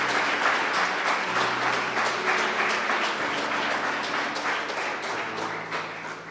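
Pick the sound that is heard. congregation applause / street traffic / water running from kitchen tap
congregation applause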